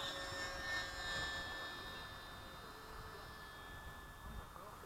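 An 80mm FMS Hawk RC jet flies at full speed, a faint, steady whining hiss with thin high tonal lines, heard from a distance outdoors at a flying field, with faint background noise.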